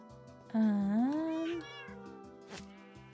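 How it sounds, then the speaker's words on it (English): A stray cat in Minecraft gives a long, rising, wavering meow, loud and close, over quiet game background sounds and a softer second call near the end. "I love stray cat sounds."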